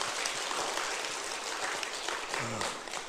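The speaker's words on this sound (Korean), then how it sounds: "오늘 우리를 축복하실 주님께 우리 감사의 박수 드립시다." A church congregation at a revival meeting gives a round of thankful applause, heard as a steady, fairly faint wash of many hands clapping with no break, with a brief voice near the end.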